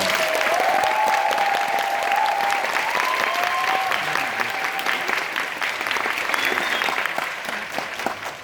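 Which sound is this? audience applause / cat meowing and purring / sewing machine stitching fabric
audience applause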